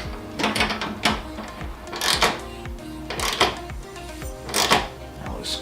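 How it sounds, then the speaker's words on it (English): A ratchet clicks repeatedly while tightening the existing bolt on a hood strut bracket on a Mustang GT, in close, rhythmic bursts of ratcheting strokes. "install this bracket, which is clearly labeled R for right, which is going to be your passenger side. We're going to put it right here and use the existing bolt and carefully tighten that down"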